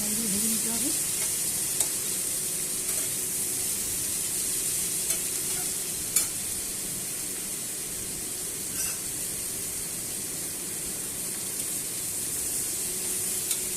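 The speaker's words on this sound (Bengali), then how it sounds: "হালকা লাল লাল করে পেঁয়াজগুলো ভেজে নিতে হবে।" Onions frying on high flame in a pan for prawn curry, a steady broad sizzle and hiss with occasional scrape of stirring, close and continuous throughout with no talk.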